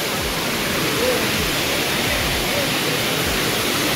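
A waterfall roars as a steady, loud broadband rush of falling water, continuous and unbroken for the whole stretch, with no voices standing out above it.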